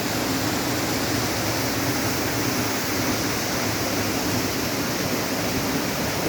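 Steady, dense rush of falling water from the second waterfall of Palo María, a continuous broadband roar with no breaks, close and moderately loud, with no voices audible over it.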